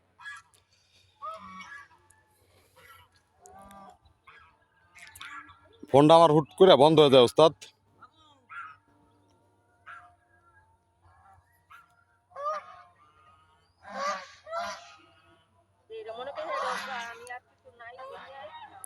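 Big dark ducks honk loudly in a harsh repeated burst, with quieter honks later, while people talk intermittently throughout.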